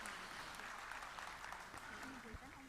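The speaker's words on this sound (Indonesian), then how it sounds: "Tepuk tangan untuk beliau." Applause from the audience at a national civil-service coordination meeting in Indonesia, a steady, dense clapping that runs throughout with a voice talking faintly over it.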